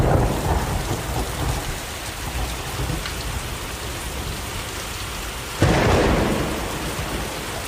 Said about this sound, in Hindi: अचानक मौसम बदलता है और तेज बारिश शुरू हो जाती है।